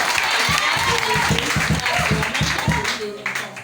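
A church congregation claps and cheers in praise of the Lord, with rhythmic applause and crowd voices that swell and then fade toward the end.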